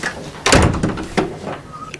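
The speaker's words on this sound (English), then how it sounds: "Close the door, Reg." A door being closed indoors in a police drama scene: one heavy thunk near the start with a softer knock afterward, close and loud, no talk over it.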